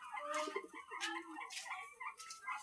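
Pankhiraj ducks call in a quiet outdoor yard with soft, fairly distant clucking and quacking notes in short, scattered bursts, with no clear talking.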